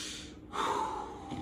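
A single deep breath drawn in during a guided seated spinal-twist stretching exercise, a soft airy inhale that swells midway and holds steady, close and alone with no talking.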